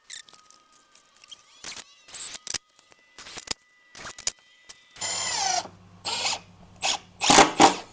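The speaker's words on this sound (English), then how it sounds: "I'm kind of drilling" A power drill works on a cargo box for a Ford F150 truck camper, first with short clicks and handling, then several loud whirring bursts close by.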